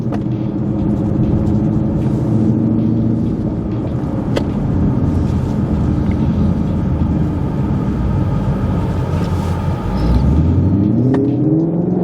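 A car slows from about 35 to 5 mph during brake pad bedding on SP Performance pads and slotted rotors, a steady loud road rumble with engine hum shifting in pitch as speed drops.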